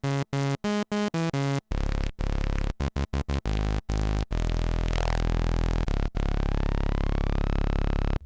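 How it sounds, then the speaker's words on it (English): Gritty, harsh digital noise and glitchy tones from a Modbap Osiris synth module, choppy stuttering bursts at first, then sustained buzzing textures with a falling sweep, loud and close with no talking. "You can hear there a bit of digital noise creeping in"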